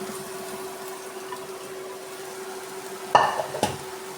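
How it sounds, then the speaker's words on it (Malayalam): Fried tuna pieces stirred into a spicy pickle masala, a low quiet sizzle with a couple of sharp scraping knocks from the spoon near the end. "ഇതിനകത്തേക്ക് ഫ്രൈ ചെയ്ത് വെച്ച മീൻ മിക്സ് ചെയ്യും."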